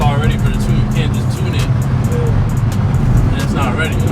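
A Hyundai Elantra N with a new loud aftermarket exhaust rumbles steadily up close, a deep continuous drone held throughout with people talking over it.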